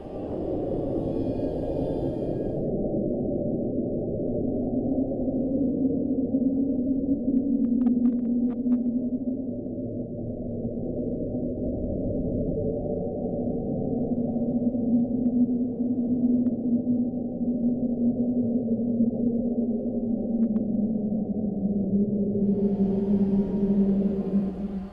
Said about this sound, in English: Some compared it to the moan of a woman's voice, distorted, stretched out, echoing across the abyss.